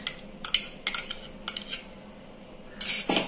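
A spoon clinks and scrapes against a bowl while mixing semolina and curd batter for green pea idli, in short irregular bursts with quiet gaps between, no voices.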